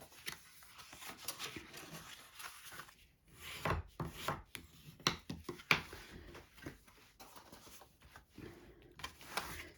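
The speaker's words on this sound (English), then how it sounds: "let's do all our folding and burnishing." Paper card is folded and burnished with a series of faint rubbing, scraping and tapping strokes at close range, irregular and quiet, with no voice.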